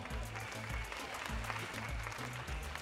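A studio audience at a French talent show final applauds two performances. The clapping is soft and fairly distant, with a low rhythmic pulse running beneath it.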